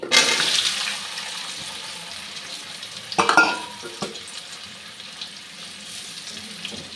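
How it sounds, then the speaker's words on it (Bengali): Potatoes frying in oil in a pan, a close hissing sizzle strongest at the start then settling lower, with a brief burst of stirring or clattering midway. "এখন আলুটা ভেজে নিচ্ছি।"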